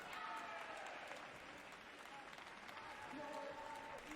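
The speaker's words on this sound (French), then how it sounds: "Et les applaudissements de la délégation française." The French delegation applauds at a Paralympic SL4 badminton final in Tokyo, soft and distant crowd clapping running under a commentator's voice.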